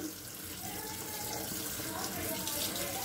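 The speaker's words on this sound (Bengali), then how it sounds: "এবার আমি সবজিগুলো ধুয়ে নিচ্ছি।" Running tap water splashes steadily onto cut vegetables being washed in a kitchen, among them eggplant, pumpkin, potato, flat beans and radish; the close, continuous gush holds throughout without a break.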